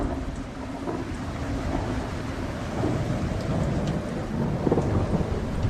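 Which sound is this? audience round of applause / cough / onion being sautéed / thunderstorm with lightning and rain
thunderstorm with lightning and rain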